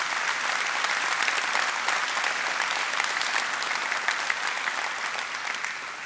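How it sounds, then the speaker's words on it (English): An audience at a law enforcement academy graduation applauds the academy instructors and field training officers, with steady, dense clapping that stays even throughout and eases slightly at the close. "Let's give them one big round of applause."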